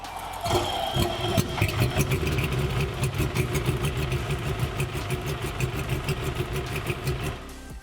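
Boat outboard motor with a known idle problem running after being started, a steady close mechanical rumble with a faintly uneven, rough rhythm.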